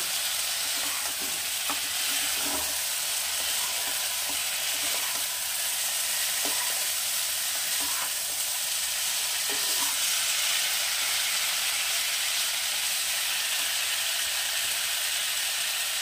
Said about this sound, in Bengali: এবারে দিয়ে দেবো ভেজে রাখা আলু আর ফুলকপিগুলো, দিয়ে একটু কষিয়ে নেব।